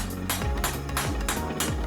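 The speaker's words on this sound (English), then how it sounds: "a wooden hammer in the shape of a wire brush is just good enough to get the edge of the blade straight" A wooden wire brush used as a hammer taps along the edge of a hand-forged razor blade to straighten it, giving four sharp, evenly spaced knocks, close and distinct over a steady background hiss.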